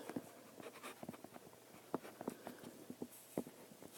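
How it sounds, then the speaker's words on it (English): A pen writes out a math problem on paper, with quiet, close, irregular scratches and taps in short strokes, and no voices. "I'm going to write that out"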